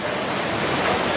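Strong ocean waves surge as the habagat monsoon approaches, a close, continuous roar of surf mixed with some wind buffeting the microphone, heard alone without voices.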